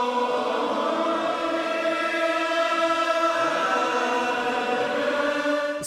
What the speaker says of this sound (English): Gaelic psalm singing